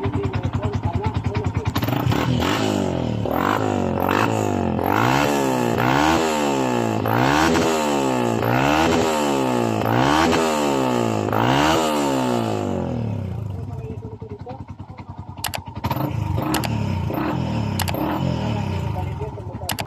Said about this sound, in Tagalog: so umandar na ang motor ni bossing